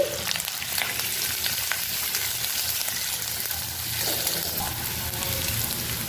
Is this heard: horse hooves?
no